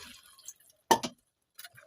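A little water poured into simmering pumpkin soup gives one short, close splash of liquid, with faint clinks and quiet kitchen sounds before and after.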